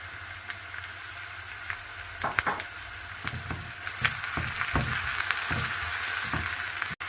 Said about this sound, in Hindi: अदरक और लहसुन की 30 सेकंड के लिए भुनाई करेंगे और फिर इसमें टमाटर डाल देंगे।